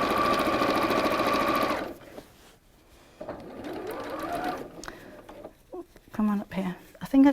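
A sewing machine runs at a steady speed for about two seconds, stitching along the edges of fabric pieces, then stops. A voice talks afterward and some clatter follows.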